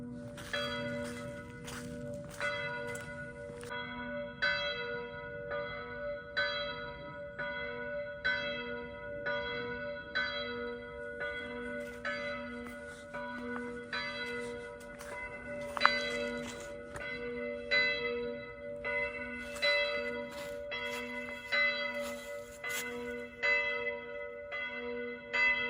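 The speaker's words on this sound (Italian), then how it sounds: "avete sentito i rintocchi della campana" A church bell near the Madonna del Buso sanctuary in Gallio tolls over and over at an even, unhurried pace, each ringing stroke lingering into the next; no one speaks.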